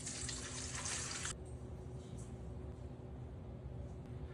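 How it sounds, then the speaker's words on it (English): Warm water pours into a mixing bowl with yeast and a little sugar for hoagie roll dough, a short hissing splash lasting just over a second before fading into quiet room tone. "We're just going to begin by pouring the warm water into the bowl along with the yeast"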